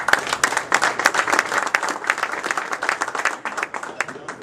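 A room of audience members at a civic meeting claps steadily, a dense, fairly close patter of many hands that stays even before thinning slightly at the end, with some voices mixed in.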